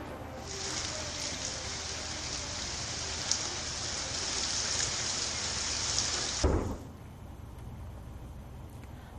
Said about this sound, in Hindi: देर रात तेज आंधी तूफान के साथ ही बारिश भी हुई